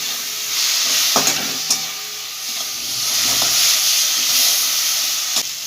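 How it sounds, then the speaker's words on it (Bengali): Spice paste with salt is stir-fried in a pan, a steady close sizzle and hiss broken by a few sharp scraping and stirring knocks, with no talk. "মশলাটা ভালো করে কষাবো।"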